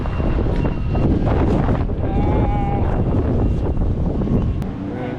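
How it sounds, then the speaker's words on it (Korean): Strong gusts of wind roar steadily across the microphone throughout, loud and continuous, at an outdoor spot in Kenting, Taiwan, with faint other sounds underneath. "여기 바람 진짜 많이 분다 바람이 장난이 아니래 진짜"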